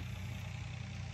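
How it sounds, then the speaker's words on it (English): A tractor driving along a nearby road, heard as a steady low engine drone with a pulsing throb, continuous and even throughout the short stretch, with no talk. "my neighbor's driving down the road with a tractor"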